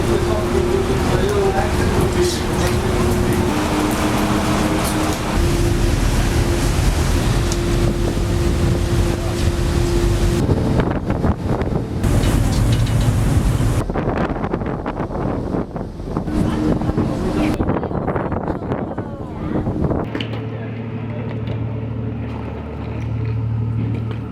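A ferry crossing to Morocco, with a steady engine drone and strong wind buffeting the microphone throughout, loud and close, easing into a lower, calmer hum near the end.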